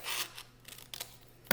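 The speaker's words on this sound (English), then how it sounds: "And then we're going to take your scissors and we're going to cut" Scissors snipping through paper in several short rasping cuts, close and quiet, with no voices.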